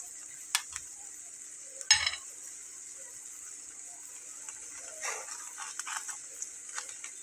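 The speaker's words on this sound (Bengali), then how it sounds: "তখন এর উপরে আমি আগে থেকে গুলে রাখা ডিমটা এভাবে করে দিয়ে নেব।" Beaten egg sizzling softly as it spreads over a paratha in a pan, a steady faint fry with a few sharper spatters and clinks, no voices.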